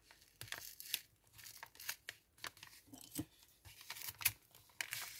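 Tape and paper tear in short ragged bursts as a birthday parcel stuck with double-sided tape is pulled open, close and irregular with crinkling between rips.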